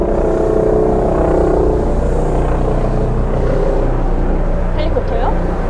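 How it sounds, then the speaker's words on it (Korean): A helicopter drones loudly and continuously overhead in Ganseok-dong, Incheon, while people talk beneath the steady engine noise at a jjamppong restaurant. "헬리콥터요?"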